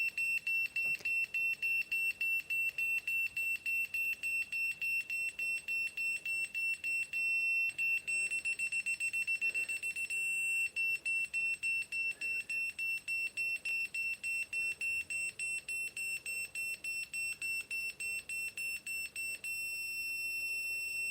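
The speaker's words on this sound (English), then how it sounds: "Here comes the beeps." A ZOKOUN laser level beeps rapidly and steadily at a high pitch, evenly spaced and continuous, with faint rustling and movement in the background.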